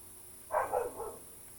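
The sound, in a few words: dogs barking at cattle outside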